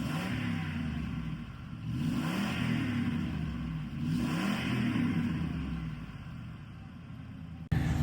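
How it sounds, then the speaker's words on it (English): A car fitted with a Flowmaster exhaust is revved repeatedly at close range, each throttle blip rising and dropping back in a deep rumble, with a sharp knock at the very end. "we're going to do some test revs and show you what it sounds like as it's getting revved up"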